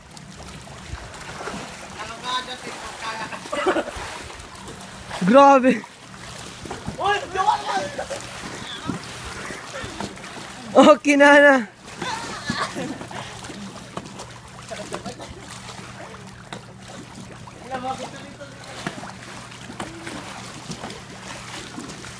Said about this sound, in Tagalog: ang lakas pa ng alon dito ngayon.